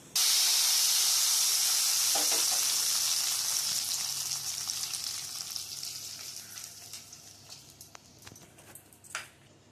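Crushed garlic sizzles hard in hot oil as a tempering poured over arai keerai greens for kootu, a loud steady hiss at first that gradually fades into softer crackling with a few sharp pops near the end.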